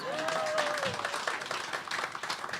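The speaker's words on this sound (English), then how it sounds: "So give yourself a round of applause" Audience applause at an international conference on indigenous knowledge systems at a university, a steady moderate patter of many hands with a brief spoken tone early on.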